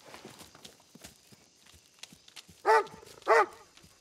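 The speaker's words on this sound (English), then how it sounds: "Good dog. Good dog." A dog barks twice, two loud, sharp barks about half a second apart, after a stretch of quiet shuffling footsteps.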